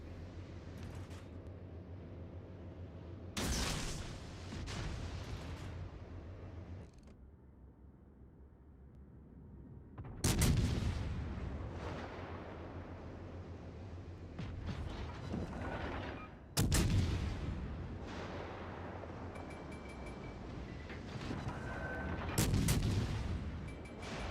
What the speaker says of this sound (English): firing his battleship at me